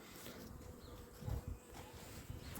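Honey bees buzz steadily and close around an opened beehive in early spring, a dense continuous drone with a few louder swells, no talk.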